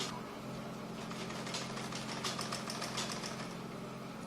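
A sewing machine back stitches fabric for a ruffle bonnet cap, its motor giving a steady, even hum with a fine rapid needle rhythm that runs without a break at moderate volume.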